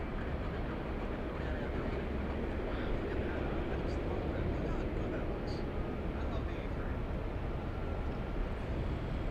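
An Airbus A380 quad jet takes off at LAX, a loud, broad, sustained engine roar that holds steady, with a voice talking over it.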